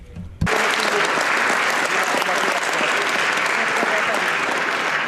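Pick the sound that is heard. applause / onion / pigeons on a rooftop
applause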